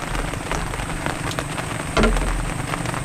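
Steady rain falls on a farm, a dense even hiss with scattered drop patter and a brief louder splash near the middle, no voices.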